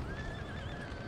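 Light hussar cavalry horses in the Napoleon: Total War strategy game, a steady whinny and neigh over a dense rumble of hooves, carried continuously through a short, busy battlefield mix.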